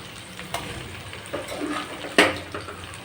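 Cooked samba wheat rava upma is stirred in a pan, giving soft scraping with a few light clinks and one sharper knock of the utensil against the pan, with no talking.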